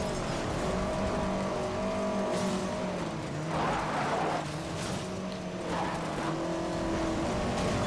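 Racing car engines in Need For Speed Most Wanted 2012 roar steadily with shifting pitch, while bursts of tire squeal and skidding cut in several times, loud and close throughout.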